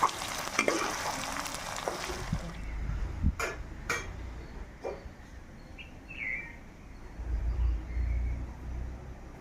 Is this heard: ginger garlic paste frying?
yes